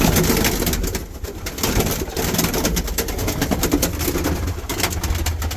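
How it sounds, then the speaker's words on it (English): Archangel pigeons cooing in a breeding loft, a steady murmur of soft coos and bird calls with scuffling and rustling throughout, fairly close and continuous with no talk. "So Archangel, the Kanakini is a beautiful pigeon"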